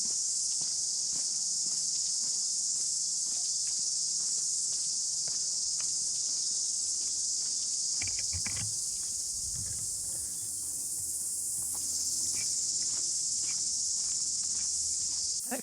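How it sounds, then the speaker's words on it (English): Loud, steady cicada drone fills a quiet forest by Blue Lake Tikitapu, New Zealand, with birds trying to compete and a few faint footsteps and rustles underneath. "It's nice to hear some birds trying to compete with the cicadas."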